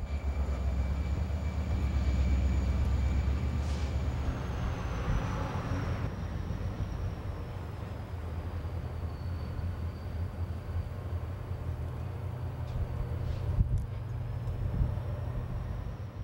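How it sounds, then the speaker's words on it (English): Train on a steep street-running stretch of the Southern Pacific Coast Line, pushed by locomotives at the rear: a steady low diesel rumble with a faint high whine, heard from a distance with no talk. "Trains run the rest of the way from here with the locomotives on the back"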